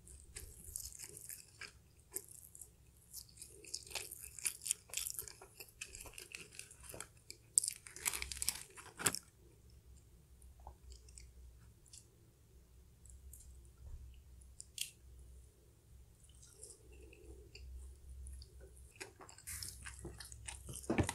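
Crunchy cheese truffle fries are bitten and chewed up close, soft crisp crunches and mouth clicks scattered irregularly over a quiet background with no talking.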